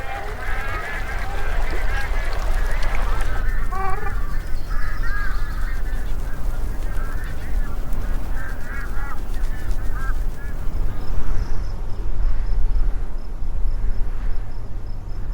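A flock of bar-headed geese honks repeatedly in the high mountains, overlapping nasal calls carried over a steady roar of wind, loud and continuous with no talking.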